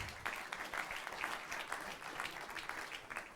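A conference audience at a 40th congress bursting into applause, a dense, even wash of many hands clapping at moderate volume, heard from within the hall.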